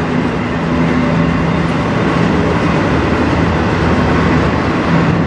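A CN M491 manifest freight train led by CN 3100 and CN 3310 locomotives rolls past on the Strathroy Subdivision with a steady, loud, continuous rumble of wheels and cars throughout, no voices.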